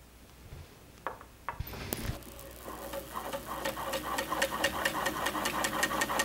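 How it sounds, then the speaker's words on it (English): A century-old Eldridge Two Spool sewing machine by National starts up with a few clunks, then settles into a fast, steady mechanical ticking that grows louder as it sews a tight lock stitch. "In spite of being a century old, she still sews a tight lock stitch."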